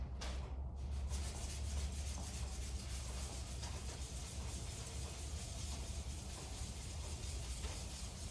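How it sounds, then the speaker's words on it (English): Small wooden flute block rubbed back and forth on sandpaper to flatten it, producing a continuous, even, gritty scraping that holds steady throughout, close and alone. "I'm gonna sand it down as flat as I can get it on some sandpaper."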